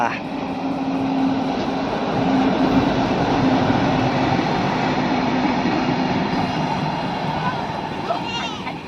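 A railway engine rumbles steadily past at close range, its heavy mechanical drone swelling slightly and then easing off.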